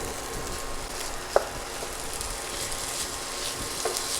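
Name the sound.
ham and shrimp frying in oil for fried rice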